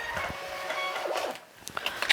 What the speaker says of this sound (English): Then we're going to print the shipping label, which should pop up pretty quickly.